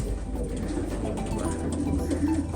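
Breeding pigeons coo softly and repeatedly in a loft, low burbling calls close by over faint background hum.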